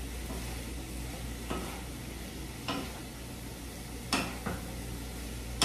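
Food sizzling steadily in a hot pan at a home hibachi-style cook, with a few scraping tosses from a wooden spatula breaking through the constant frying hiss.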